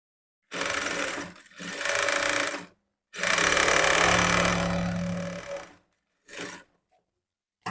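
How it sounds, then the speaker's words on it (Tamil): A sewing machine stitches a blouse sleeve seam in close, loud bursts: two short runs, one long run, then a brief final burst, separated by pauses. "நான் வந்து ஒரு எக்ஸ்ட்ரா தையல் வந்து மூணு தையல் போட்டு எடுத்திருக்கேன்"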